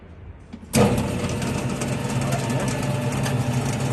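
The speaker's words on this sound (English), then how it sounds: "Then we test this screw feeder. Also driven by the motor." A motor-driven screw feeder on a 1500-litre paddle mixer for dry-mix mortar starts abruptly after a faint lead-in, then settles into a loud, steady mechanical whir and hum that runs to the end.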